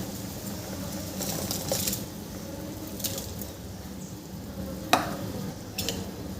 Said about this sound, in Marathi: आपल्या पाण्याला छान उकळी आलेली आहे आता यामध्ये आपण भिजवलेली फगर घालून घ्यायची आहे